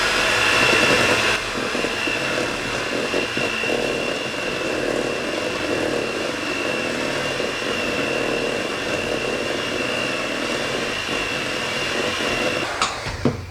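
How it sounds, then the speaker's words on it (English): A KitchenAid stand mixer whirs steadily while beating pound cake batter, a loud, even motor drone with a constant high whine, close by and unbroken for the whole stretch, with a faint clatter at the end. "Not everybody has a KitchenAid stand-up mixer."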